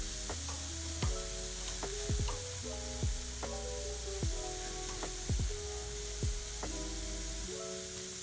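Raw meat sizzling on a street food BBQ grill in Manila, a steady frying hiss held close and alone, broken by several sharp clatters as pieces are turned, with no talking.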